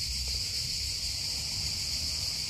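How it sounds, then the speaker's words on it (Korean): A continuous high, shrill buzzing drone of cicadas calling for mates fills the air steadily over a low background rumble, with no talking. "매미, 짝을 찾는 매미 소리,"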